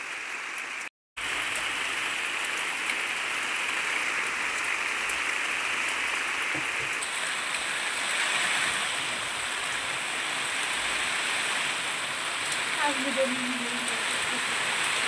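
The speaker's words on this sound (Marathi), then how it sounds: "बघा आता पाऊस परत चालू झालेला आहे इकडे." Rain pours steadily onto a village house, a continuous dense hiss close by that lasts throughout, with a brief cut near the start and faint background sounds later.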